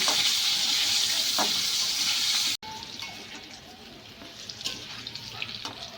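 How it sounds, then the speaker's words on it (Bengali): Potatoes frying with salt and turmeric in a pan give a steady, loud sizzle that cuts off abruptly, then continues as a quieter crackle with occasional clicks. "আলুর ভেতরে দিয়ে দেবো লবণ, অল্প পরিমাণে দেবো হলুদ। ভালো করে একটু ভেজে নেব।"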